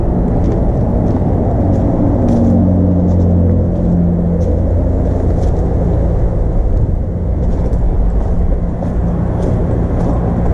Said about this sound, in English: I do hear the traffic.